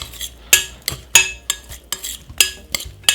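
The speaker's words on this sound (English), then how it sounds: "Then give it a nice stir." Seasoned jerk king prawns stirred in a bowl with a metal utensil, giving about eight sharp clinks and scrapes in an uneven rhythm, close and clear with no talking.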